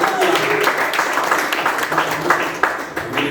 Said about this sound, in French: Encouragez-le par les acclamations